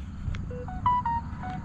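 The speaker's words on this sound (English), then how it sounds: "this phone will not stop ba-dinging" A phone repeatedly sounds short electronic notification dings and tones, several quick pings in sequence over low background noise during an outdoor walk.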